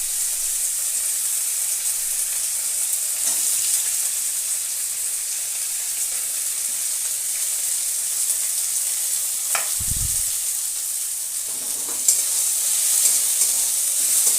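Chopped onions fry in a little oil with mutton fat for ghugni, producing a constant bright, hissing sizzle that fills the scene, with a few faint stirring knocks and no speech.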